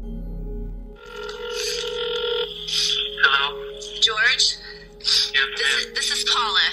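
A telephone rings on an incoming or outgoing call in a crime drama, with a steady electronic tone running throughout while voices talk over it.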